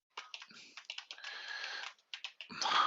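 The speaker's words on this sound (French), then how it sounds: "mon clavier est un peu collant" Bursts of clicking keystrokes on a slightly sticky computer keyboard during a game, close and dry, in uneven runs with short pauses and a busier flurry at the end.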